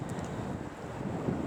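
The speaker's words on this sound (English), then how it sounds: "It's windy up here too." Wind gusting across an exposed hilltop in Wellington botanical gardens, a steady broadband rush buffeting the microphone throughout, with no voices.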